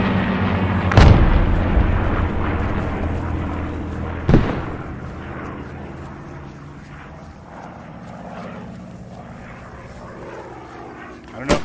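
Grenade blasts in a shooter video game: a sharp, booming explosion, then another a few seconds later and a third near the end, over a steady droning rumble while a voice talks.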